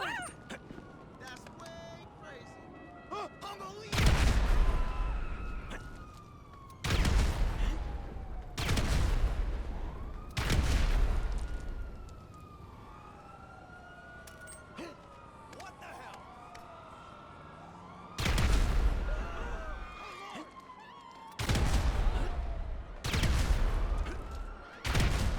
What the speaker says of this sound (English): There is one particular shop in Los Santos that doesn't show explosions correctly when you are standing outside